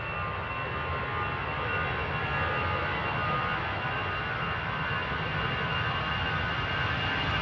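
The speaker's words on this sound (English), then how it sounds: "Oh yeah, the MD-80s" An MD-80 jet takes off at Amsterdam with a loud, steady, unbroken engine roar filling the whole stretch, no voices present.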